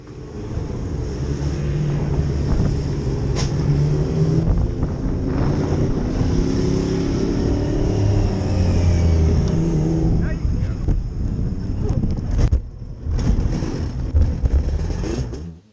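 A Yamaha TZ350 two-stroke racing motorcycle howls past on the track at Donington in cool weather, its high, rising engine note loud and sustained with wind buffeting, and a brief dip and surge near the end.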